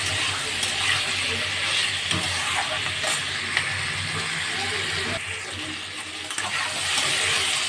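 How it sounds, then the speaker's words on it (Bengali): Potatoes with salt, turmeric and halved green chillies being stirred and fried in a pan at home, a steady broad sizzle with occasional scraping strokes, close, continuous with faint background noise. "এবার আলুটাকে ভালো করে নেড়ে একটু ভেজে নেবো"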